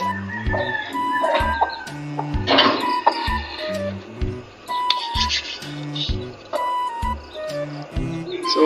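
A hen clucks in short, repeated bursts close by, with rustling and other bird calls mixed in.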